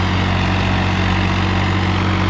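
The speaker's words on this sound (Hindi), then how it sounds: "29 पे ट्रैक्टर स्टार्ट हो गया था" A Swaraj 855 FE tractor engine idles steadily, a loud, close, continuous low rumble with an even throb and no talking.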